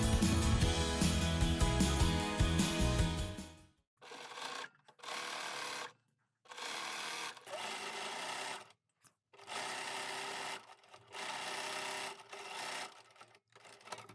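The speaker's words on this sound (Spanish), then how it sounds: "vamos a coser los dobladillos de abajo de la falda" A sewing machine fitted with a twin needle stitches the hem of a sequin fabric skirt. Rapid stitching bursts of a few seconds each alternate with short silent pauses, close and clear.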